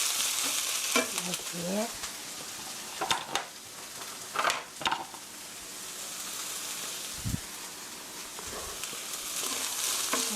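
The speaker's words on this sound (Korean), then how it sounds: "살짝 볶아주시고요." Ingredients for a Korean napa cabbage stew stir-frying in a pan, with a steady broadband sizzle and scattered scraping stirs and clinks throughout, close and moderately loud.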